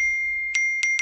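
A bright electronic phone message notification chime sounds three times in quick succession on a radio broadcast, clear and close, over a steady high-pitched tone and a faint low hum.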